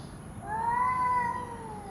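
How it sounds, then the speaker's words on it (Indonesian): A single drawn-out cat meow rises and falls, moderately close, over quiet background hiss. "Peningkatan vokalisasi atau mengeong rewel"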